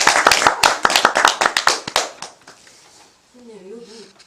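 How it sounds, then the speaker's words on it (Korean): A small audience at a Buddhist doctrine lecture claps, quick distinct handclaps for about two seconds that thin out and stop. A voice follows briefly after the silence. "박수."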